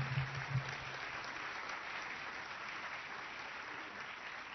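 Applause from a lecture audience greeting Professor Umberto Eco, a steady wash of many hands clapping that holds evenly from start to finish without fading.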